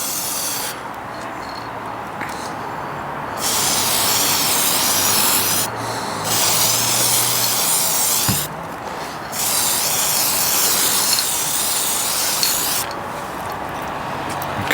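VHT silver aerosol paint sprays onto a Land Rover Freelander 2 exhaust with a sputtering nozzle, giving several long, close, rough hissing bursts separated by short pauses.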